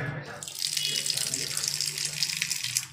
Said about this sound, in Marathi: चांगले पाण्याने धुवायचं वांग्याला